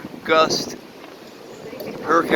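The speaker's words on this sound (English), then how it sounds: "the outer belts of the hurricane are just hitting us." Gusting hurricane wind buffets a boat riding out Hurricane Dorian, roaring in surges that swell, ease, then build again, loud and close, with some wind noise.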